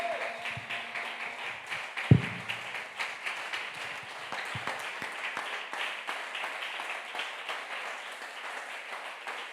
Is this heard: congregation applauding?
yes